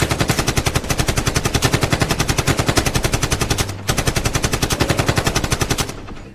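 Rapid automatic gunfire from an action movie scene, a loud continuous machine-gun burst with dense regular shots, a brief break near the middle, then more firing that tapers off at the end.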